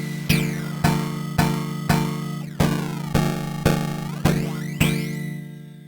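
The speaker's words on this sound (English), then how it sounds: "decimator." Korg Electribe EMX-1 groovebox sequence run through its decimator effect, giving crunchy, bit-reduced, aliased tones with sweeping gritty artifacts, around nine rhythmic hits over a steady low drone, close and loud without speech.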